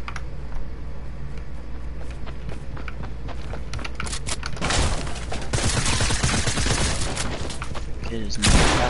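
SMG fire in a video game comes in rapid bursts of sharp shots, growing heavier and louder through the second half.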